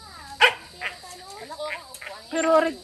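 A dog gives a few sharp barks and yips nearby, mixed with voices talking over a faint background hum.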